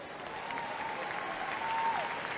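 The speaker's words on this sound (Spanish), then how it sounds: "Fuerte el aplauso para él." Steady crowd applause at a folk festival in Villa María, a wash of clapping at moderate distance with a faint sustained tone running through it.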